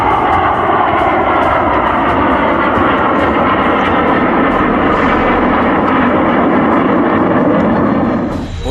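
Three fighter jets fly over the Purvanchal Expressway trailing tricolour smoke, a loud, steady roar of jet engines filling the air throughout, fading slightly at the end.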